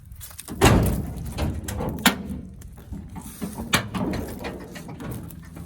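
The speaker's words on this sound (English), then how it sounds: "Let's pop this hood." The hood of a 1956 Ford F100 pickup is worked open with a loud close metallic clunk and latch rattle, followed by creaks, scrapes and a few more knocks as it lifts, with no voices.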